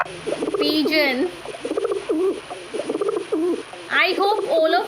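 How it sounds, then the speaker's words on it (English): Pigeon cooing in a repeated series of soft, throaty calls, fairly close and clear, with a faint higher chirp near the end. "Pigeon."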